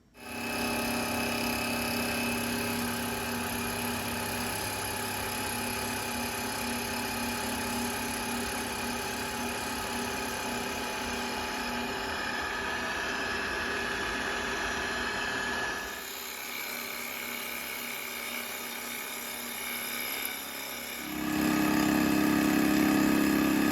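A milling machine drives an end mill through metal at a set depth, a steady mechanical drone with a bright tonal whine that shifts briefly near the end as the cut changes, loud and continuous without speech.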